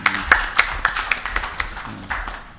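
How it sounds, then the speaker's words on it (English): Scattered hand claps ring out in an uneven, thin rhythm, a small group briefly applauding management at a company annual general meeting. "Please, let's give them a round of applause, please."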